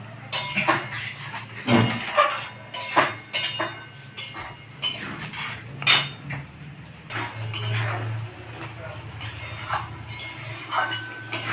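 A spoon scrapes and clinks against a pan while fried potatoes with spices are stirred for a cabbage dish, irregular metallic knocks and scrapes close by with a low hum underneath.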